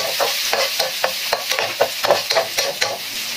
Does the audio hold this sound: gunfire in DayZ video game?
no